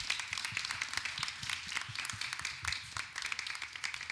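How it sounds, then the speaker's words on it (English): Audience applause at a senior capstone performance and presentation on a college stage, a steady wash of many hands clapping at moderate level with no voices over it. "So I want to give a round of applause to open that"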